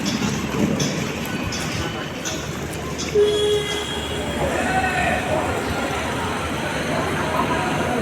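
Metro train running on rails, with a steady rumble of wheels on track, brief metallic squeals and airy rushing noise throughout, heard from inside or close by, with faint voices in the background.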